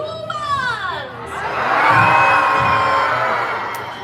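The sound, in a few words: crowd of people screaming together at a Disney show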